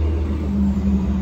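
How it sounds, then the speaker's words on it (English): Steady low rumble of road traffic passing outside on a busier-than-usual day, a continuous drone with no talk over it. "Traffic's a little busier today, so maybe a little bit louder"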